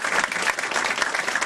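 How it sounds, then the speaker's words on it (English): Lecture audience applauding to welcome a speaker, dense steady clapping from many hands throughout, close and fairly loud, with no voices over it. "I'm always applauded when I start, but never when I finish"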